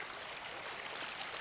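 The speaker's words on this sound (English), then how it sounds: "Nothing like the soft sound of water." Soft, steady rush and trickle of creek water flowing through a Tennessee forest, continuous and fairly close, with no voices.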